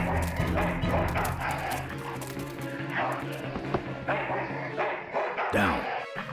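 A dog in the video game Full Throttle Remastered barks and yips repeatedly in short bursts over game background sound, with someone talking over it.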